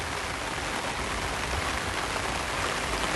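Steady rain falling in Phuket, Thailand, a dense, even hiss of drops hitting surfaces, constant and close with no other sounds.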